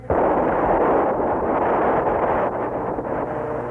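An atomic explosion sound effect hits with a sudden onset and then a sustained, heavy low rumble that roars on loudly and slowly tapers without any speech.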